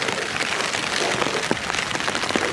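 Heavy rain splashes down during a thunderstorm at an outdoor bivouac, a dense loud hiss of drops hitting surfaces close by, steady and continuous with no voices.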